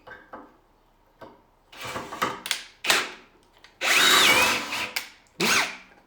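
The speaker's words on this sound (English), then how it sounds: "so that's drilling through steel" A power drill fitted with a larger bit bores through flat steel plate in several bursts, with short whirring starts followed by longer grinding runs, close and loud with no talking.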